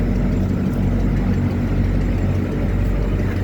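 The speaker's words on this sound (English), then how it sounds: "You hear the Caterpillar engine on the Pierce." The Caterpillar diesel engine of a Pierce airport fire truck idles at a car show with a steady, heavy low rumble, close and loud, without any voices.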